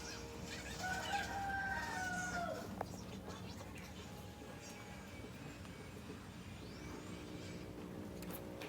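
Chickens cluck and a rooster crows at a distance over a steady background hum, with faint voices in between.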